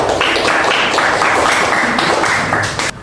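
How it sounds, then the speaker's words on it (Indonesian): Steady, dense applause from a group in a classroom or presentation session, a loud continuous wash of many hands clapping that cuts off abruptly near the end. "Kita berikan tepuk tangan untuk kelompok Raisa"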